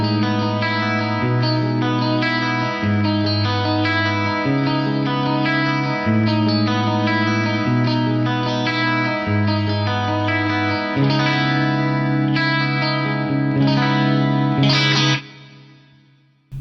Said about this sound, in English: That is a gorgeous, gorgeous reverb. Let's add chorus to that now.